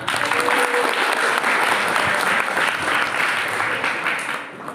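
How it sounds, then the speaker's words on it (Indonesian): An audience at a Muslim self-development motivational talk breaks into applause, a loud, continuous patter of many hands clapping that stays strong and fades slightly near the end. "Tepuk tangan dulu untuk kita semua."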